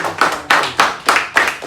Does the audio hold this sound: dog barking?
no